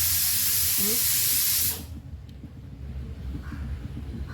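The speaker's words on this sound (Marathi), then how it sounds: "कुकरचा आवाज येतच असेल बाजूला तुम्हाला" A pressure cooker on a kitchen stove lets out a loud, steady steam hiss for under two seconds, then cuts off abruptly, leaving a quiet room.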